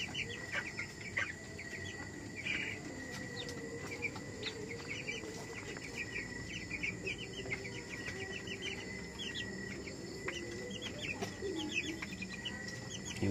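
Cobb 500 broiler chickens in a farm coop, heard as a steady chorus of soft clucks and high peeping chirps with no gaps, over a constant low background drone.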